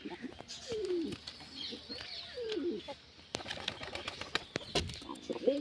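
Pigeons at a rooftop loft with nesting chicks, soft throaty cooing phrases rising and falling, broken by sudden bursts of wing flapping and small clicks, close and fairly quiet with faint background noise.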